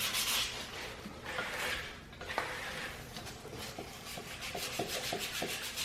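Spot putty on the curb-rashed edge of an aluminum wheel from a BMW E90 335i is sanded with 180-grit paper, giving a steady, close, quiet rasping rub with brief strokes and no talking.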